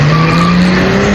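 A Mercedes at the finish of the Mille Miglia UAE rally, its engine giving a steady, loud drone with a constant tone, close by and uninterrupted, with no talk over it.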